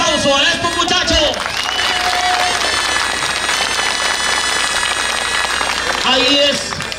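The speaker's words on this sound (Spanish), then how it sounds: "regálenle el aplauso a estos muchachos" Crowd applause at a 2021 rancho competition tournament fills the space steadily and loudly, a dense wash of clapping with a voice speaking over it at the start and again near the end.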